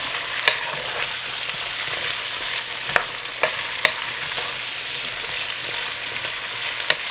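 Chopped cucuzza squash is stirred in a pot, with soft steady sizzling and a few sharp clinks of the spoon against the pot, fairly quiet and without voices.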